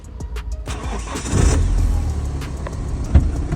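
A 2009 BMW 320d Touring diesel is started: a short cranking whir, then the engine catches and settles into a loud, close, rough idle with a faint thump near the end.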